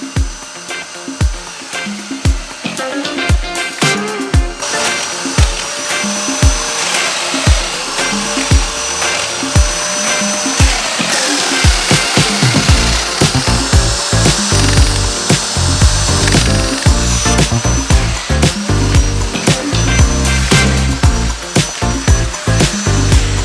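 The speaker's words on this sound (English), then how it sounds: "here I'm just using dominoes with the Festal dominoer" A Festool Domino joiner cuts joints in ash boards for a dining table, giving repeated loud whining plunge cuts close by. A rhythmic series of short bursts gives way to a longer sustained motor roar.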